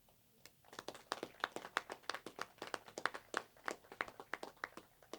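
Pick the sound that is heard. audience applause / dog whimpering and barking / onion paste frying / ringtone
audience applause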